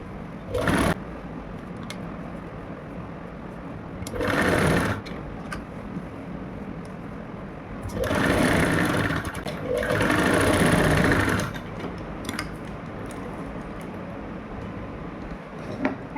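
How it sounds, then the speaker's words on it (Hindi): A sewing machine stitching a kurti, running in several short bursts of rapid whirring with quiet pauses between them. "इस तरीके से आप ये सिलाई लगा लो।"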